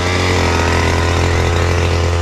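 A grass cutter's small engine runs loudly and close by on a farm, a steady buzzing drone with no pauses and no talking.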